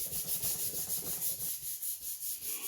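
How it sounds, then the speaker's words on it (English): Hard, steady hand rubbing over paper laid on a cut paper shape for a print, a close, continuous scratchy friction with a regular back-and-forth pulse, softening slightly partway through. "place it over the surface, and rub really, really hard"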